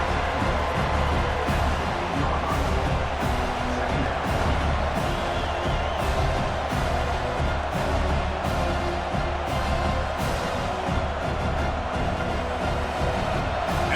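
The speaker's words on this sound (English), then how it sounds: "This crowd coming to life here, trying to help the defense get a stop." A college football stadium crowd at Syracuse vs. Notre Dame roars in a continuous wash of cheering and noise, with rhythmic claps or stomps pulsing through the steady din.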